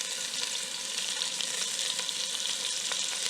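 Onions sauté in a pan, giving a steady, close, moderately quiet sizzle and crackle that continues evenly throughout with no talking.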